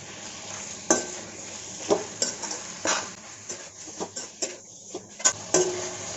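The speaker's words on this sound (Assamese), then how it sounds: "মাংসখিনি এইখিনি হাফ ফ্ৰাই কৰা হৈ গৈছে" Chicken pieces frying with turmeric and salt in a pan, a steady sizzle broken by repeated scraping stirs and clinks of a spoon against the pan, close and fairly loud.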